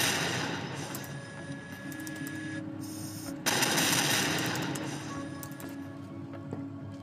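Airship turrets in Batman: Arkham Knight fire in sustained, dense rattling bursts with a brief pause midway, over a constant mechanical background drone.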